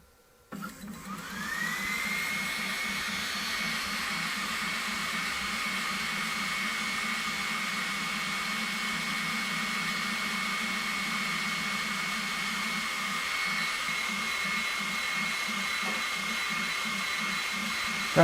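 An Ortur Laser Master 3 20W laser engraver runs a job on a workpiece, starting after a brief quiet moment into a constant fan whir with a steady high whine and fast rhythmic pulsing from the moving head, close and alone.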